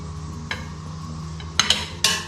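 A metal tire spoon clinks and scrapes during a by-hand rear tire change on a Royal Enfield Himalayan motorcycle, giving a few sharp, close metallic taps over a low background hum.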